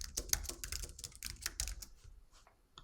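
Quick bursts of keystrokes on a computer keyboard, close and fairly quiet, a flurry of clicks that thins out and fades toward the end.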